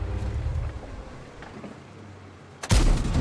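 In the video game World of Tanks, a quiet stretch of low rumble, then a sudden heavy tank cannon blast near the end followed by loud booming noise.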